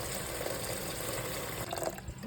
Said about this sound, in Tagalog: Lagyan natin ng sabaw, tubig para malaga siya.